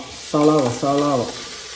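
Steady sizzling hiss of onions frying in coconut oil, with two short voiced tones rising briefly above it.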